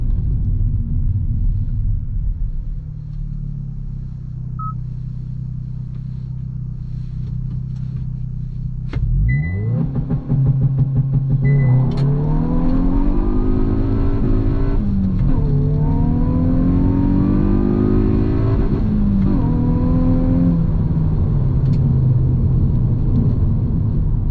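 A 2025 Hyundai i20 N launching from standstill with launch control: a steady held rev at first, then the engine surges and climbs through several gear changes, each shift dropping the pitch before it rises again, loud and close.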